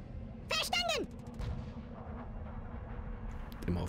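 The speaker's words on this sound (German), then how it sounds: "Ich glaube, sie hat noch einen Napalm-Angriff." Napalm air strike in the video game Worms Reloaded, with a whistling descent followed by a rumbling spread of fiery explosions and crackle, heard under a steady noisy background.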